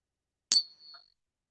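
A struck silver trade dollar coin gives one sharp metallic ping with a clear high ring that decays over about half a second, followed by a faint second tap, isolated in silence.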